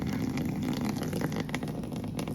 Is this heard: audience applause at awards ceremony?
no